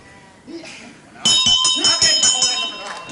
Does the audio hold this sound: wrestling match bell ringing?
yes